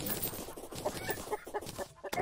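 Chickens cluck in the video game Terraria, a busy, continuous chorus of close, fairly loud clucks and squawks overlapping in quick succession with no talk.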